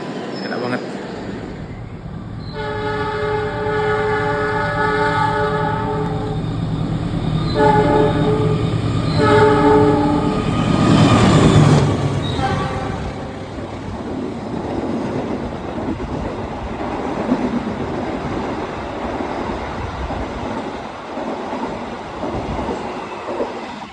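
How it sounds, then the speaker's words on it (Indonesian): Aboard the Malabar passenger train in Indonesia on a morning run, a passing train sounds a long multi-tone horn blast while rolling rumble and rail noise swell close by, then settle into steady running noise. "Jadi karena kita ngelawan arus kereta dari yang arah barat, ya udah Kena silang semua sama kereta-kereta dari barat."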